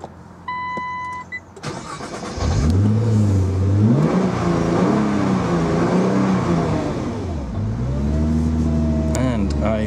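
A Nissan GT-R Premium Coupe fires up: a starter crank, then the engine catches with a loud rev and settles into a deep idle, with another rev near the end and faint beeps before the start.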